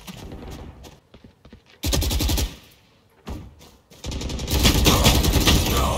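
Rapid automatic gunfire bursts in the video game Valorant, loud and close, several short volleys separated by brief pauses, ending in a longer sustained burst.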